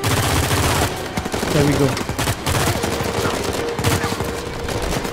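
Dense gunfire at a ship graveyard in Uncharted 4, rapid bursts of shots and automatic fire crackling continuously, loud and close, with a brief spoken remark over it.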